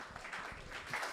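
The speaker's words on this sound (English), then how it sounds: "We give him a big round of applause again as an encouragement." Audience applause for a chef at a food event, a short, soft burst of scattered clapping heard at a distance.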